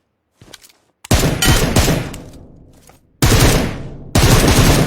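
Burst-mode gunfire in PUBG Mobile: a faint short rattle, then a loud sustained volley of automatic shots, a pause, and two more loud close bursts.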